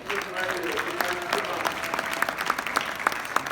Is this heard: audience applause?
yes